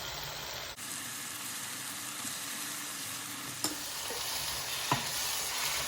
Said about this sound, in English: fry it till the tomatoes are properly mixed and dissolved